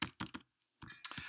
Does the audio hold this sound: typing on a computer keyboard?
yes